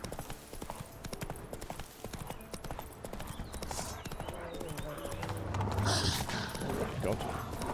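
Roach the horse gallops in The Witcher 3, steady rapid hoof clip-clop close up, with a brief whinny and a swell of game music and ambience toward the end.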